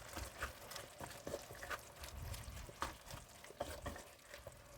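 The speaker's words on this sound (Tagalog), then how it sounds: "Tuloy lang natin ang paghahalo." Sotanghon noodles with carrots being stirred in a sizzling pan, continuous frying hiss with repeated scraping strokes of the spatula, quiet and close.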